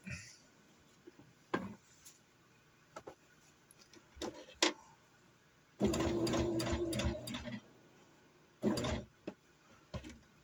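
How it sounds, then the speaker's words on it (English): A sewing machine stitches a placket on a T-shirt, with scattered clicks and light handling noises before a couple of short, close bursts of whirring stitching. "I'm going to back stitch here just because there's so much bulk in the dress."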